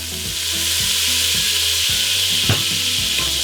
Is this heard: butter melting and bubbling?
yes